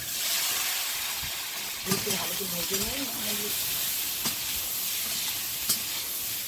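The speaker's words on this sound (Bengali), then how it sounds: "আলুটা ওই তেলের মধ্যেই ভেজে নেব" Potatoes frying in oil in a Sundarban home kitchen give off a steady hissing sizzle with a few soft knocks, while a voice briefly murmurs partway through.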